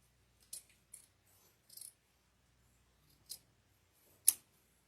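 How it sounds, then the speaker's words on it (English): Scissors cut through deco mesh for an evergreen wreath, making about five separate quiet snips at uneven intervals, with the last cut the sharpest and loudest, all close by in a near-silent room. "Now I can cut this off."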